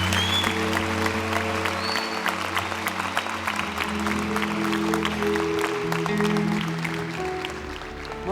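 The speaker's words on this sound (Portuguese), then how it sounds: "Pode dar uma salva de palmas para essa galera." Church congregation applause during a worship service, steady clapping over sustained music with held tones, loud and continuous before easing slightly at the end.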